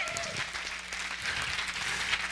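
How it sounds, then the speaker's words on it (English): Congregation applauding with a burst of hand clapping during a church service, mixed with crowd noise and voices. "Somebody give the Lord a hand clap of praise."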